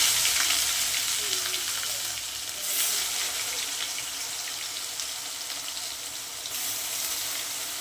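Meat sizzles in a pan, a loud steady hiss with a watery, bubbling texture and faint stirring, continuing throughout without talk.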